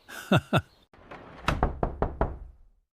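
A door is knocked on in a quick series of about five sharp, close raps, preceded by a short bit of speech.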